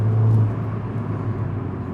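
Engine of a 2013-2014 Mini John Cooper Works GP hatchback while driving, a steady low rumbling drone with a brief louder swell at the start, heard from inside the car with no talking.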